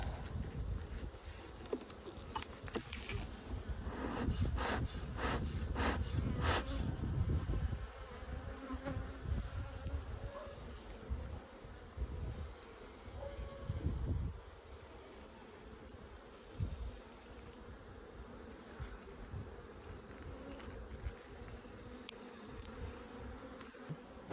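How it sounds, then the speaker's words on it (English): Wasps buzz steadily around a beehive at close range, a dense, continuous drone with small taps and shuffles mixed in. "There's still a few pesky wasps around trying to get in."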